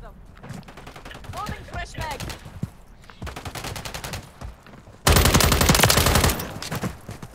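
Rapid automatic gunfire in the shooter game Call of Duty: Modern Warfare III, with short bursts, a pause, then a loud sustained burst near the end, heard close and sharp with little talk.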